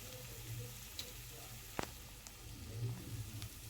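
Homemade black masala frying in oil in a pan, giving a soft, steady sizzle close by with a few faint clinks of a spoon, and no talking.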